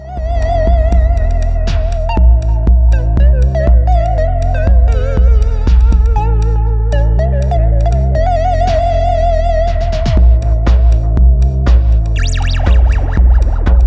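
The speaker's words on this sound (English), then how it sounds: "In my dub demo, I only used sounds from the Syncussion." A loud, continuous dub groove built from synthesized drum hits and electronic tones of a Behringer Syncussion SY-1 analog drum synthesizer, drenched in echo and Behringer spring reverb throughout.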